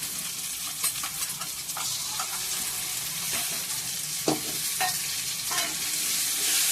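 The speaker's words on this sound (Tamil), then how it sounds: "நல்லா கிளறி விடுறோம்." Raw mango pieces fry with onions and asafoetida in a pan, with a steady sizzle under repeated scraping strokes of a spoon stirring, close and even throughout.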